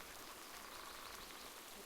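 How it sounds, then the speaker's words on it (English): Steady rain falls in World of Warcraft, a faint, even patter of drops on surfaces that continues without pause and without voices. "And it's raining again."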